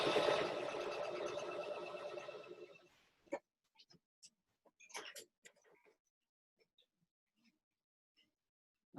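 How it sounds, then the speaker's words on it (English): A sewing machine with a quarter-inch foot runs a straight stitch down a fabric edge while piecing pinwheel quilt blocks: a steady close whirr for about three seconds, then it stops, leaving only scattered faint clicks and handling sounds. "I'm just sewing straight the way down the edge of the fabric using my 1/4 inch foot"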